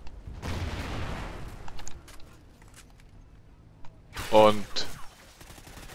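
Gunshots from the AMP Delirium weapon in Call of Duty Ghosts multiplayer: two faint bursts of rapid fire a few seconds apart against a quiet background, with a brief spoken word.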